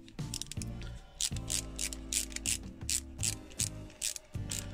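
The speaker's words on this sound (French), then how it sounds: "Allez hop, on visse." Small screw being driven into the centre console of a KITT Knight Rider scale model kit, a close, steady run of fine ratcheting clicks from a screwdriver with brief pauses between turns.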